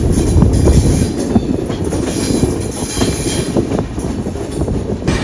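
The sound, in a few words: passenger train running on tracks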